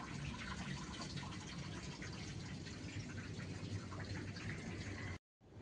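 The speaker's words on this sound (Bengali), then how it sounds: "মেশিন জল ছেড়ে দিয়েছে" Water from a washing machine drains in a continuous rushing, gurgling stream, fairly even in level before cutting off abruptly near the end.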